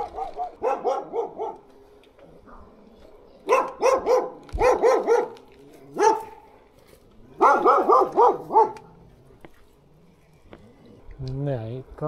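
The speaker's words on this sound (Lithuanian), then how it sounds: "kas ten darosi? Kažkoks šuo agresyvus." An aggressive dog barks in several loud, close bursts of rapid barks separated by brief pauses, with a short whimper near the end.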